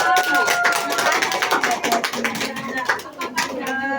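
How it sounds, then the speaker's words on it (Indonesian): A classroom applauds a student, with dense, steady clapping from many hands lasting the whole stretch and voices faintly mixed in. "Beri tepuk tangan buat Mbak Uswa"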